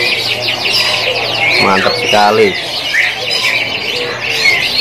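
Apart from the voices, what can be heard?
canaries chirping at a bird market kiosk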